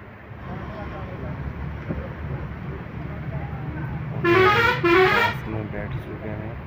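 A vehicle pulls away on a road trip in Odisha, its horn sounding in a couple of loud bursts over rumbling road and engine noise while people talk.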